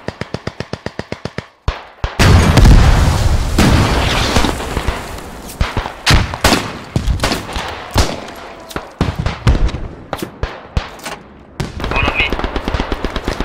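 Dense gunfire crackles in the game Beyond The Wire: rapid automatic bursts, sharp single shots and heavy booming artillery impacts, loud and close, with voices partly mixed underneath.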